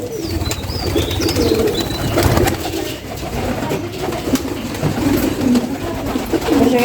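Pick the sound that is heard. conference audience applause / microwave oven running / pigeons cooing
pigeons cooing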